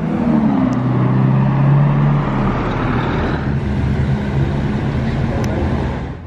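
A black Aston Martin DBS passes close by, its engine a loud, steady low drone whose pitch rises and dips early on, then fading slightly into continuous road and traffic noise over the whole stretch.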